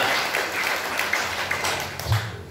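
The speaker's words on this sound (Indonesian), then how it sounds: "Kasih tepuk tangan yang meriah untuk Tuhan." A church congregation applauds during a sermon, a dense, steady patter of clapping hands that carries on for a couple of seconds before fading a little at the end.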